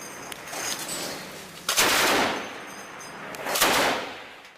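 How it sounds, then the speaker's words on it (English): An automatic weapon fires toward Donetsk International Airport, giving two loud, close bursts that each ring out and fade, separated by a quieter stretch. "the Russian actor is seen shooting an automatic weapon towards Donetsk International Airport"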